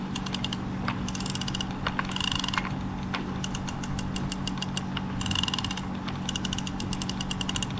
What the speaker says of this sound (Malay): Itu bunyi drag dia.